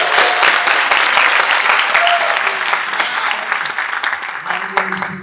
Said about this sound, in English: So we applaud you as well.